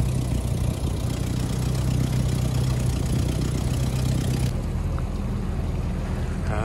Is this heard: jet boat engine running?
yes